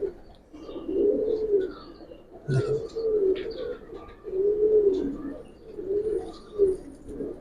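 Pigeons kept in a loft coo in a repeated rolling rhythm, close and moderately loud, with a brief spoken word partway through.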